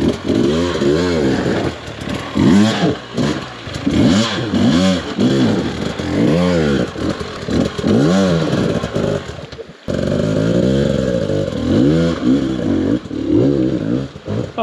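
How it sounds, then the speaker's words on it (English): A 2023 GasGas EC 300 two-stroke enduro motorcycle revs hard on a technical trail, loud and close, its engine note surging up and down through repeated throttle blips with a brief break near the middle. "On his 2023 EC 300 gas Enduro. Pretty sick bike."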